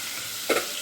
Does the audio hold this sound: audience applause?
no